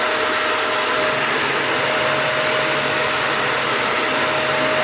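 A Bissell 2254 CleanView Swivel Rewind Pet upright bagless vacuum runs steadily while sucking up flour, a loud continuous close whine and rush with no breaks.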